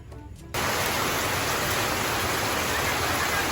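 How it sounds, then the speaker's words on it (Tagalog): Heavy rain starts suddenly outdoors, jumping from near quiet into a loud, dense, steady downpour hiss that continues unbroken to the end. "Bigla pong umulan ng malakas."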